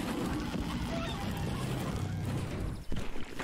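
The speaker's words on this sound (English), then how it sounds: "Oh my God, it's a house of chickens." Animated chickens squawk and honk in a busy, overlapping flock chorus, fairly loud and continuous, with a sharper burst near the end.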